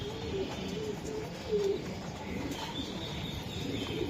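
Racing pigeons at a breeder's loft coo softly in a low, repeated murmur, faint and a little distant against steady background noise.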